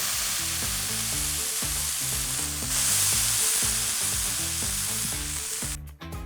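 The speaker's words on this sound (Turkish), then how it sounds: "Bir tur daha tekrar çeviriyorum. Baskı uyguluyor uyguluyor. Köfteleri pişirmeye devam ediyorum." Hamburger meat patties sizzling loudly and steadily on a griddle for a street-style wet burger, with rhythmic scraping and pressing noises over the continuous fry, ending in a brief clatter.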